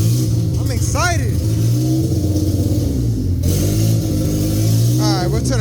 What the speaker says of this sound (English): so as you have just seen, the car did turn on. Sounded pretty good.